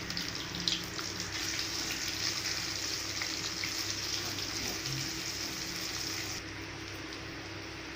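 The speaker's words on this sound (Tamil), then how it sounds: "மசாலா நல்லா வாசனை வந்த உடனே வெங்காயத்தை சேர்த்துக்கோங்க." Onions fry in oil with spices for chana pulao, a continuous, fairly quiet hissing sizzle that stays even throughout with no talk.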